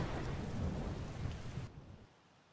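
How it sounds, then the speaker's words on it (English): Steady rain hisses and patters with a low thunder rumble in the Skyrim video game, fairly quiet, then abruptly cuts out near the end. "This rain will stop eventually."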